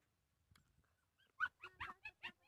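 A dog gives a short run of four or five faint, quick barks and whimpering yips, distant and otherwise quiet.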